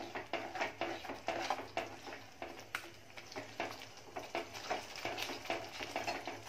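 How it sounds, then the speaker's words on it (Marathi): A white-onion bharit mixture seasoned with chili powder bubbles and sizzles in a pan while a spoon stirs it in repeated quiet scraping strokes, a soft, close, rhythmic kitchen sound with no voices. "उकळी येऊन द्यायचं आहे।"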